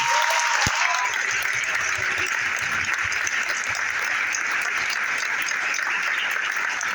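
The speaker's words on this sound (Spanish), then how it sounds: "I want you guys to give yourself a round of applause." Sustained applause from an audience at a church evangelism event, with many people clapping steadily and densely through the whole stretch, and a few voices under the clapping.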